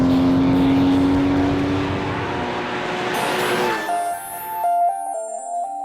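Porsche Cayman GTS driven on a track, a loud engine and exhaust note that drops in pitch as the car passes and fades. A higher whine is left as it moves away.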